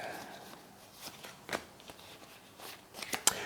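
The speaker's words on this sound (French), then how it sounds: "Et je vais commencer par piocher 4 cartes." Playing cards being drawn from a deck during a solo game of Sanctuary: soft, faint sliding and flicking of card stock with several brief sharper snaps, a handful of separate pulls close by, with no talking.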